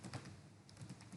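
Typing on a computer keyboard while entering a SQL Server command: a quick run of light, close clicks and taps with no talk over them.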